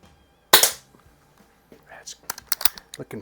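An Umarex Browning Buckmark pistol fitted with a red dot sight fires a single sharp, close shot, followed by softer clicks and handling noises, with people talking in the background.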